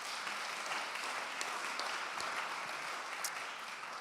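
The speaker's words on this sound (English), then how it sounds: "So put your hands together for them" A church audience at a farewell celebration applauds the organizing committee with sustained, even clapping from many hands, moderately distant and steady with no speech.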